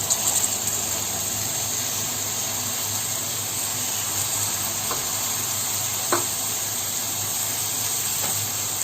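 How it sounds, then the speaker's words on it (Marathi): Chopped banana blossom sautés in hot oil with a constant loud sizzle and hiss, broken by a few sharp clinks of a utensil against the pan. "ही पण अशी परतून तेलात अशी छान परतून घ्यायची आहे"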